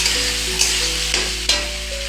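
Chicken pieces go into a pan of lightly browned chopped onion and chilli, giving a loud, close, continuous sizzle with a few sharper bursts and scrapes over a low steady hum.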